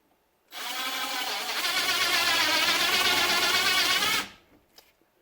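A Hornady neck turning tool shaves a cartridge case neck, making one steady, close whirring scrape of about four seconds, with a couple of faint clicks after it stops.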